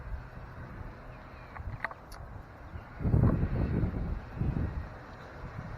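Gusty wind buffets the microphone outdoors in a peace garden, a low rumbling roar that swells loudly midway, eases, then surges again over a faint background.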